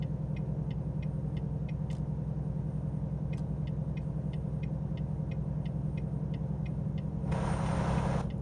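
A truck rolling along a road in American Truck Simulator: a steady low engine rumble throughout, with a soft regular ticking over it and a brief hiss of noise near the end.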